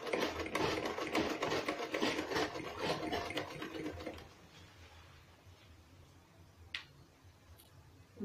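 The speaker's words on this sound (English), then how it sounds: "I'm going to sew this all round." Sewing machine stitching around corset top fabric, running in a steady rapid chatter for about four seconds, then stopping, leaving a quiet room with a single small click.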